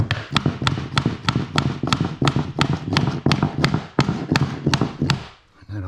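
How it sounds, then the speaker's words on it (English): A rubber hammer taps laminate flooring planks into place in a single-wide mobile home, striking about fifteen sharp, evenly spaced blows that are close and loud, then falling silent. "That's what the rubber hammer's for."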